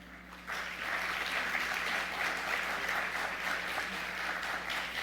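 A church congregation applauds during a Spanish-language sermon ten days before Christmas, the room falling into dense, sustained clapping after a brief quiet opening and holding an even level to the end.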